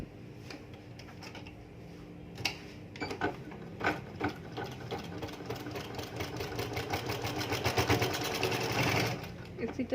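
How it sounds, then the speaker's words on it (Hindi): A sewing machine stitches a baby skirt, running in a steady rapid mechanical chatter that grows louder and faster toward the end, with a voice talking quietly over it. "अब आप इस पर सिलाई लगाएंगी।"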